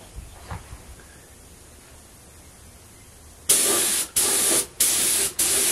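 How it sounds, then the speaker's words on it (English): A spray gun spraying green glaze fires in bursts: quiet room tone first, then three loud, close hissing blasts separated by short pauses. "So let's see if this will spray. Yeah, we got some material coming out."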